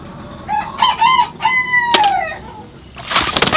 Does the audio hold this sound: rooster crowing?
yes